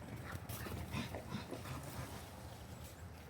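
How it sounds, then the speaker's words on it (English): Dogs bark and whimper outdoors during firewood rack setup, an excited, fairly faint mix of yelps and whines at mid distance with no talking. "The dogs are going crazy."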